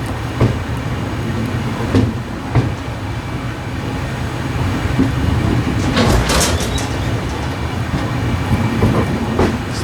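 The Mandovi Express rolls out on the Konkan railway, heard from inside the coach as a steady low rumble with rhythmic clickety-clack over the rail joints and occasional rattles and squeaks.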